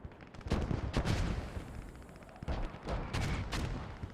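Mortar blasts and gunfire in the video game Post Scriptum, several sharp, loud booms and bursts spaced irregularly over a rumbling battlefield background.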